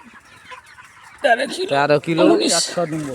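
Broiler chickens cluck and a rooster calls nearby, loud busy fowl noise following a quiet opening with faint voices.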